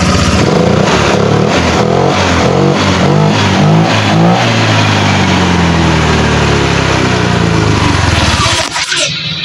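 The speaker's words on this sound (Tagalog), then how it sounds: "So yun, namamatay pero meron na siyang RPM bumibirit na siya." A misfiring Honda Click 150 scooter engine revs loudly up close, the pitch rising and falling through several blips before it dies off near the end.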